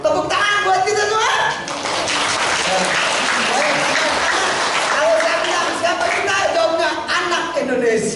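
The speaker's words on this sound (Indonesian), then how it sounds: "Tepuk tangan buat kita semua." Sustained applause fills a school stadium general session at SMA Muhammadiyah Sawangan, loud and steady throughout, with voices and cheering mixed into the clapping.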